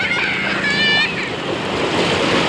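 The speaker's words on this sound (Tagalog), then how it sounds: "ang lakas ng alon, no?" Strong ocean waves break and wash onto a beach in Pangasinan with a steady surf roar and wind buffeting the microphone, alongside a short whistle-like tone.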